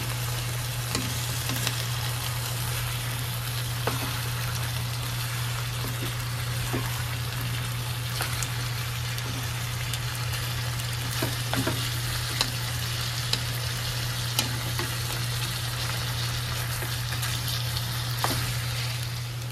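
Pieces of chicken for pininyahang manok sizzle in a pan with fish sauce, making a steady frying hiss under a constant low hum, broken by occasional light stirring taps.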